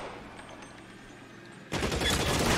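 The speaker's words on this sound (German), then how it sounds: "Ihr seht, ey, die schießen wie aus der Pistole." Sudden bursts of rapid gunfire break out in a shootout in L.A. Noire, cutting in loudly after a quiet low background and continuing as a dense, rattling volley to the end.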